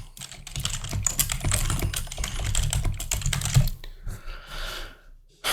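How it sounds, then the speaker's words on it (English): Rapid, steady typing on a computer keyboard during a hacking practice session, with dense, close keystroke clicks for several seconds that thin out and stop near the end. "We'll type that in there."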